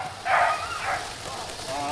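Dogs bark and yip excitedly during a fireworks display, a burst of barking near the start fading into scattered yips, with a person talking over them.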